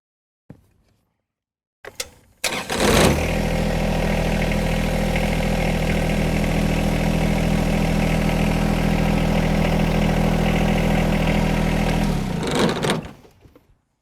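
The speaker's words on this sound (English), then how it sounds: "So I'll get on the tractor, start it up, raise the mower deck" A John Deere 1025R compact tractor cranks after a few clicks, its diesel engine catching and settling into a loud, steady idle for about ten seconds before shutting off and fading.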